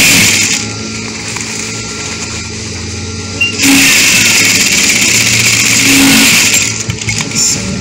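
Sewing machine stitching a pocket onto an A-line dress, running in steady continuous bursts with a motor hum that pauses briefly and resumes, close and loud.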